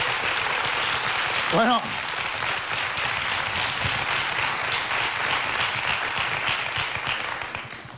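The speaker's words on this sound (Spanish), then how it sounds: "aplauso fuerte para ellos" A television studio audience applauds guests on a Spanish comedy show, a broad wash of clapping that continues steadily while a voice briefly speaks over it near the start.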